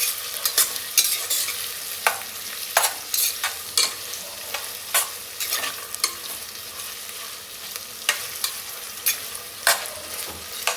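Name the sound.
onion sautéing and stirring in a pan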